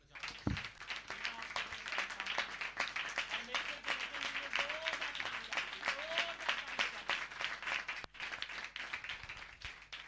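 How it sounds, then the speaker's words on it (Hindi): A crowd applauds with dense, steady clapping that runs throughout, with some voices murmuring underneath, at a church service after a prayer. "जोरदार ताली"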